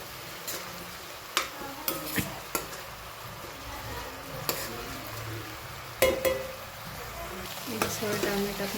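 Tomatoes and onions stirred in a frying pan, a steady sizzle running underneath while a utensil scrapes and knocks against the pan in scattered clacks, with a louder cluster of strokes near the end.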